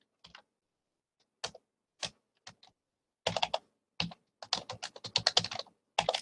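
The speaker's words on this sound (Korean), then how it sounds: "I자 키를 누르면은요" Keys on a computer keyboard are pressed in scattered, crisp clicks, a few isolated taps followed by a quicker burst of typing, close and fairly quiet with no voices.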